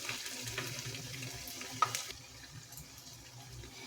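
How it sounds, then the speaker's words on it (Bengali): Semolina sweets fry in oil over a medium gas flame, giving a soft, steady sizzle with a brief sharp pop midway before the bubbling settles a little quieter. "আর গ্যাসের আঁচটা মিডিয়ামে রেখে দিয়ে ভেজে নেব"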